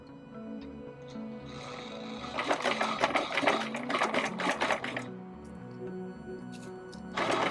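A sewing machine stitches a half-inch seam through pinned fabric edges, its motor running in a dense, steady mechanical whir for a few seconds before stopping, with brief clicks around it and no talk.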